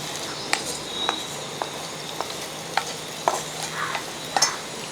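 Hot tempering is poured into a Planji fish curry, giving a soft, continuous sizzle with scattered light clinks and taps of utensils close by.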